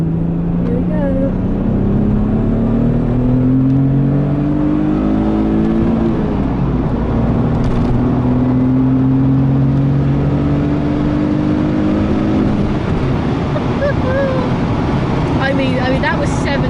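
Nissan 300ZX Twin Turbo accelerating hard on the road, its engine note climbing steadily through the gears in long rising sweeps, loud and close from inside the car.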